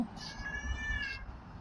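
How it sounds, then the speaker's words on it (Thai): A cat meows in one drawn-out, wavering call near a cat house, with faint low rumbling in the background and no talking. "นี่น้องแมว"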